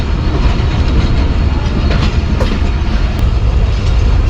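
The Shalimar Express, a diesel train, pulls out of Faisalabad station on its way toward Multan and Karachi. Loud, steady wheel rumble and rhythmic clatter carry through the whole clip, with no voices.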